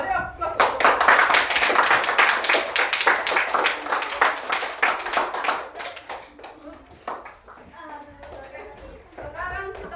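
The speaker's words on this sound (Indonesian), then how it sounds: "Beri aplaus." A school class claps together in a brief burst of applause that fades into scattered taps, with children's voices chattering through and after it.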